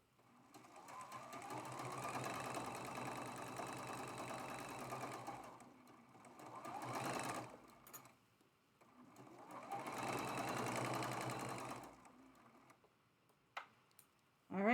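A sewing machine stitches quilt block pieces for a traditional star block in two long steady runs of rapid mechanical ticking, with a brief burst between them and a few short pauses.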